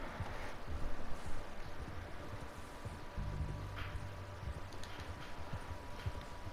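Horse hooves clip-clopping in the video game Red Dead Redemption 2, a steady soft trot over a noisy outdoor ambience, fairly quiet and low.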